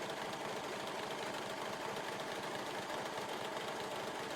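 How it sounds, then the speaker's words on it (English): An overlocker serger runs steadily while overlocking fabric, giving a continuous, fast mechanical whirring hum with no breaks. "then you overlock it"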